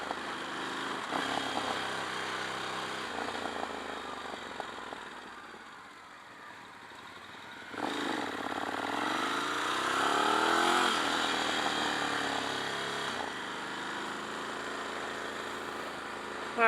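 Ducati Scrambler 1100 motorcycle being ridden, its engine droning steadily with rises and dips in revs under wind noise, fairly faint and distant.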